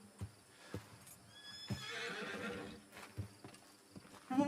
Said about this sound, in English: I hear their horses